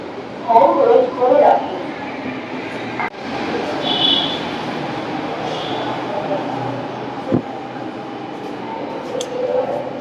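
A low rumbling hum of a Dhaka metro rail station fills the background, with a few clanks and thuds, while voices talk nearby over it.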